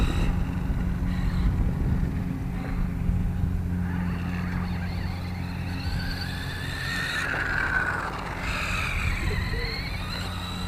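A Losi Rock Rey RC truck with a 4300 kV motor drives on 2S power, giving a steady whirring motor whine with rising and falling pitch sweeps under wind noise.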